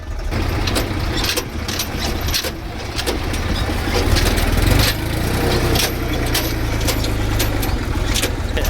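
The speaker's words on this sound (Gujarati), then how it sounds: "આ ઢાળ થોડોક છે, ઢાળ ચડી જાય છે આપણું ટ્રેક્ટર આરામથી." A tractor, a Massey or Mahindra, drives up a slope with its engine chugging steadily and working harder near the middle, loud and close with a continuous rumble.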